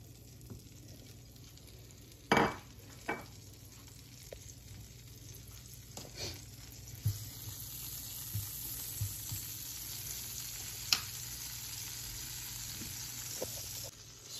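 Butter, about 30-40 grams, melting in a preheated frying pan for Turkish-style rice, a quiet steady sizzle and crackle with a few sharp pops and clinks of a utensil.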